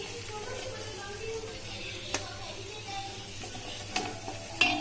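Green chillies frying in a pan for veg Manchurian, giving a soft continuous sizzle with a few light clinks of a utensil against the pan.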